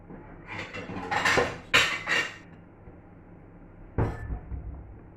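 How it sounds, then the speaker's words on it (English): A plate set down over fried potatoes in a pan: a few ceramic and metal clatters and clinks close by, then a quieter pause before another sharp knock of crockery, with no talking. "just to keep it warm, we'll put a plate on top."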